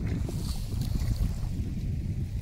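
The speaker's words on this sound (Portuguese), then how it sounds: "Tá ventando demais." Strong wind gusts over the Paranapanema river during a fishing trip, a loud, continuous low buffeting rumble with no pauses and no voices.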